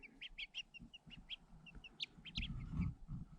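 A chicken clucks softly outdoors near cat cages serving as its coop, with short repeated chirpy calls in a quick, uneven rhythm over low background rumble and rustling.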